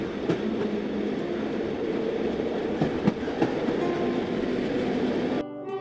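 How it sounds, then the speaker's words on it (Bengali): A cartoon sound effect of a train running on rails gives a steady, close rumble with faint clattering wheels. It cuts off abruptly at the end. "এই বলে সে চলল ট্রেনে করে কলকাতার উদ্দেশ্যে।"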